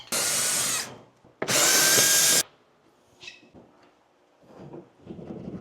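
Power tool, likely an impact driver, zipping fasteners out of a Honda Accord in two loud bursts, about one second each, with a short pause between, then faint clicks and handling noise.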